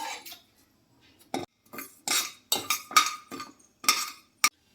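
Rice poured into a kadai (wok) for slow roasting on a low flame, heard as a series of short, close metallic clinks and rattling scatters in separate bursts with quiet gaps between them.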